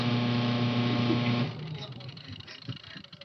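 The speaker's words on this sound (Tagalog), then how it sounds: "At bahagya po umikot yung ating washing machine. At napakaulong po." A faulty washing machine motor barely turning drones with a loud, steady electrical hum that cuts off about halfway, leaving quieter rattling and room noise.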